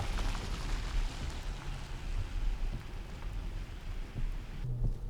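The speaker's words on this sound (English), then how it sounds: "Now today the weather's vile, it's chucking it down." Heavy rain pours down during a storm, a dense continuous hiss of drops drumming on the surfaces nearby. A deep low rumble runs underneath, and the downpour stays loud and steady throughout.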